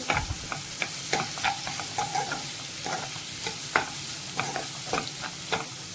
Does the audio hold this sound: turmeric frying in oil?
yes